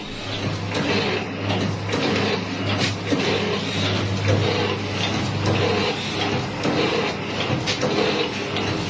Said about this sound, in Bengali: এই মেশিনটার না মেশিনটাকে কি বলে এটা প্যাকেজিং মেশিন